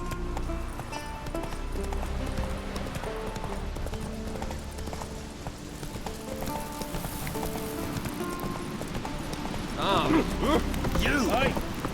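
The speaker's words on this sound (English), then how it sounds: "Run, Roach." A horse gallops in The Witcher 3 Wild Hunt, its hooves beating a quick, steady clip-clop under continuous outdoor game ambience that grows busier near the end.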